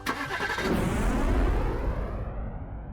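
A car engine cranks and catches as a sound effect for a pillow fort playing a magical vehicle, then settles into a loud, rumbling idle that fades out at the end.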